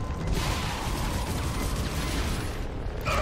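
The stasis ability in the sci-fi horror game Dead Space 2 fires as a dense, steady rush of grinding, crackling noise that holds loud for about three seconds.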